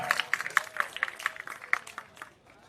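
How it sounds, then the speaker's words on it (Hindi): A crowd at a political campaign rally claps to welcome Imran Pratapgarhi, with a dense burst of applause that thins and fades out over a few seconds. "जोरदार तालियों से इमरान भाई का स्वागत किया जाए"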